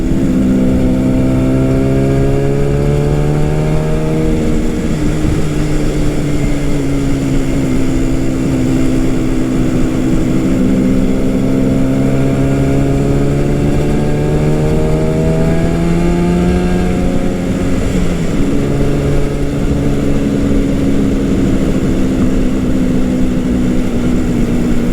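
A 1969 Yamaha R3 350 two-stroke motorcycle is ridden along back roads, its engine droning loudly and up close, revving through rising and falling pitches with gear shifts, over steady wind noise and with no talk.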